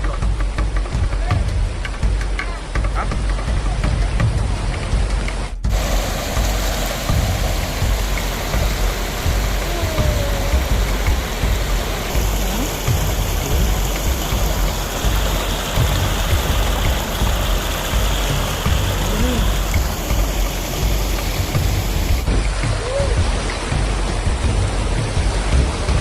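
Floodwater rushes loudly and continuously, carrying many large and small fish, a dense, steady wash of water noise that fills the whole stretch with no pauses.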